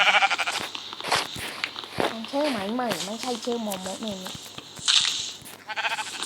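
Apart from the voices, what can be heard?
sheep bleating in Minecraft video game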